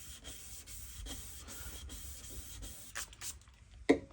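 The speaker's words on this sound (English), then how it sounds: "I'm just going to use every grit of sandpaper that I have." Fine 1500 grit sandpaper rubs on a plastic turntable dust cover in steady back-and-forth strokes, faint and close, ending with a brief louder knock.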